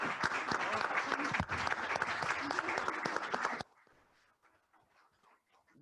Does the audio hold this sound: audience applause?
yes